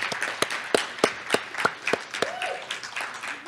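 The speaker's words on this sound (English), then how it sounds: "And how about a round of applause for that?" Conference audience clapping, a sparse run of distinct hand claps in a loose steady rhythm that soon thins out, with no talk over it.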